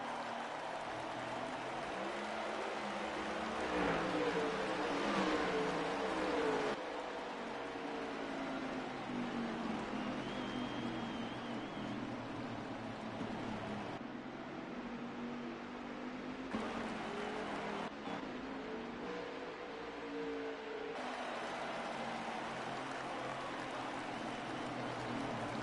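Race cars in a racing video game roll around Martinsville on pace laps, producing a steady engine drone and road noise that shifts in tone as the view cuts between cars.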